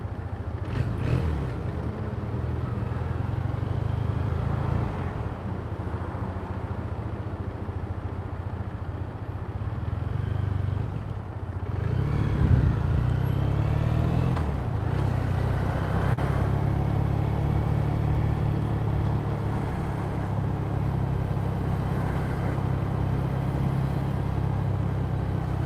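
A motorcycle with stock exhaust pipes rumbles steadily through Shinjuku, Tokyo, a low, smooth engine drone close by with mild swells in revs and faint city traffic around it.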